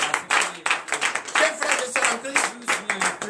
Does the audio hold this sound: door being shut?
no